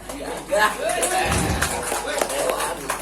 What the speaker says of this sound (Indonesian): tepuk tangan dulu, bersemangat